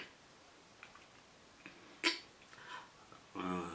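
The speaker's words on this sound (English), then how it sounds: "don't know why I'm sneezing." A single short human sneeze from an allergic reaction, sharp and close at a low overall level, followed by a brief voiced sound amid quiet room noise.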